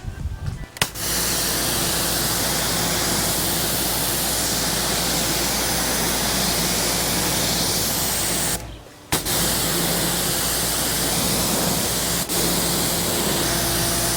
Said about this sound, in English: I'm gonna use the 25 degrees nozzle supplied by Giraffe Tools with the pressure washer to blast away